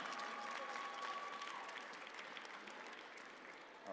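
A crowd at a Dragon Ball Legends tournament final applauds steadily, dense clapping that fills the whole moment at an even level and tapers slightly toward the end.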